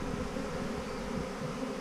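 A honeybee swarm in a backyard hums steadily and continuously, a dense, even drone from many bees with no voices.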